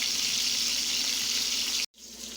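Cube steak fries in a pan, giving a steady, close sizzling hiss that carries evenly before cutting off abruptly near the end, with no voices.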